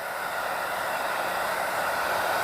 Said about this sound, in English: Sorry, the hairdryer is probably drowning out.